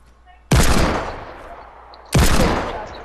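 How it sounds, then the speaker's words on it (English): Two loud, sharp gunshot blasts from a shooter video game, about a second and a half apart, each with a decaying tail, with no talk over them. "Did you guys just shoot him?"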